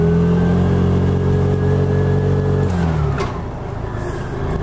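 A Piaggio Ape City Fi three-wheeler holds a steady, loud mid-pitched engine drone in third gear, then its tone shifts and dips near the end as the revs change; there is no talk.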